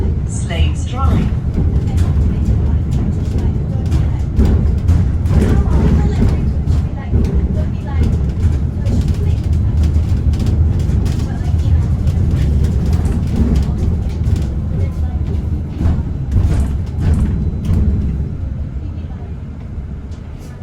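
Enviro 100 EV electric bus on route 162 toward Eltham Station, a steady loud drive rumble with road and body rattle throughout, with talk over it and the sound easing slightly toward the end.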